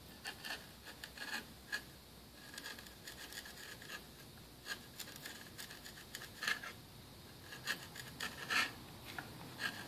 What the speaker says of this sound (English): Just make sure your scraper edge is really, really very sharp and flat on 2 sides or 3 sides